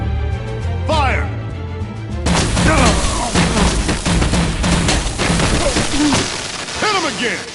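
Guards open fire in a Batman video game, a burst of rapid gunshots and impacts crackling close and loud amid chaotic action, with voices shouting over the din.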